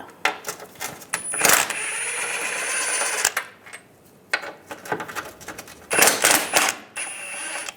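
Ratcheting 13mm socket wrench loosening rear engine mount bolts on a 1998-2010 Volkswagen Beetle, heard as several bursts of rapid metallic clicking separated by short pauses, close up with no speech.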